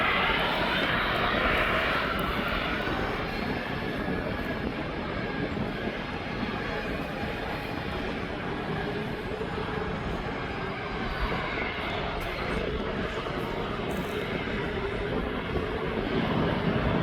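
A TUI airliner at East Midlands Airport gives off a steady, continuous jet engine roar for the whole stretch, moderately distant and unvarying, with no talk over it.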